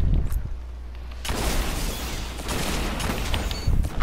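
Gunfire in a Destiny player-versus-player match, a dense rumbling barrage of shots and booms that runs nearly continuously at close range, with a louder onset partway through.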